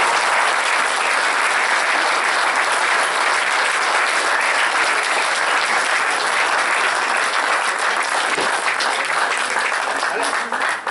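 Dense, sustained applause from a large audience at a New Year's greetings event, a steady wash of many hands clapping throughout, loud and continuous with no pauses.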